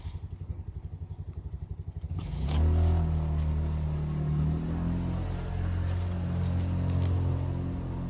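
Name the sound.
motorbike riding out through the gate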